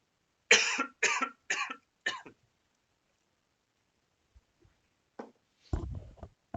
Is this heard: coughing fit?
yes